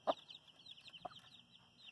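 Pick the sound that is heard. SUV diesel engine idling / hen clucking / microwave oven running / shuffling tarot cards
hen clucking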